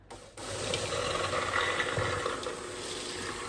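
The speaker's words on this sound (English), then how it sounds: "Let me see if the mixer works." An electric mixer runs while oatmeal cookie dough for heart-healthy cookies is made. After a brief quiet start, a loud, steady mechanical whir with a faint rattling edge takes over and holds for the rest, with no talking.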